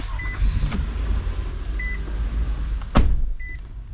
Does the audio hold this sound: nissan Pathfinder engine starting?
yes